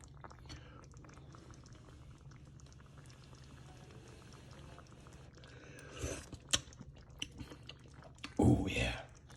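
Someone tasting homemade chicken and dumplings broth: a few soft slurping and smacking sounds come close to the mic, with a louder sip near the end, over a quiet kitchen background.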